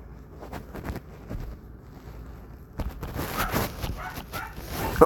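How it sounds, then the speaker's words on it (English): Dogs bark in a series of sharp, uneven yips and woofs at middling distance, growing busier and louder in the second half, with some wind buffeting on the microphone. "the dogs are barking again"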